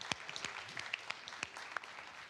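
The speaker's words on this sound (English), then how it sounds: "Round of applause." Faint, sparse applause from a crowd at a DevOps organizer summit: scattered individual claps, quiet and somewhat distant.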